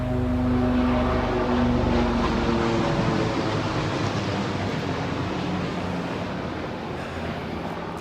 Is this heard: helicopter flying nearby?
yes